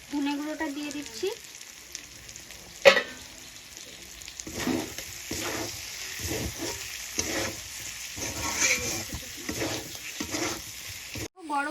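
Chicken pieces sizzle in a pan as cumin and coriander powder go in, with stirring scrapes and spoon knocks over a steady fry, moderately close.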